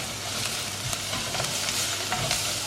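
Ginger garlic paste sautéing in ghee for chicken 65 biryani gives a steady, fairly quiet sizzle throughout, broken by a few soft spoon stirs, with no voices.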